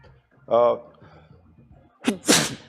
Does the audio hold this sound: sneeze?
yes